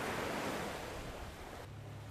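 Quiet, steady wash of ocean surf at a beach on Tanegashima, a soft broadband rush that thins slightly near the end, heard alone without voices.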